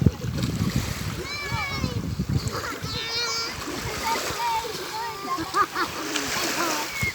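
People splashing while swimming in the sea at San Francisco, Aurora, Quezon in the Philippines, with continuous nearby water splatter and churning, mixed with children's voices and chatter throughout.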